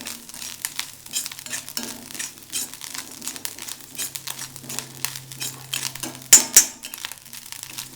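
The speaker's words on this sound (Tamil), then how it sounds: "இன்னும் கொஞ்சம் வறுக்கணும்" Ivy gourd being stir-fried in a pan, soft scraping and crinkling stirs at an irregular pace, fairly quiet and close, with one sharper clatter near the end.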